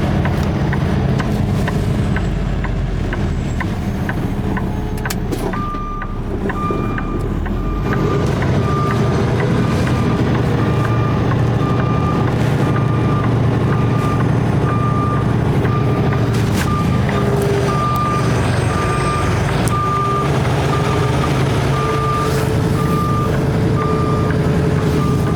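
A truck with a poor turning radius backs up onto a pad on a wet day, its reversing alarm beeping steadily through most of the stretch over a loud, continuous diesel rumble.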